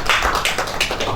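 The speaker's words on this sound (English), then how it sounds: "I want us to even give ourselves a round of applause" Applause from an audience at a Nigerian conference session on the blue economy, loud and close, with dense rapid claps running for about a second without talk.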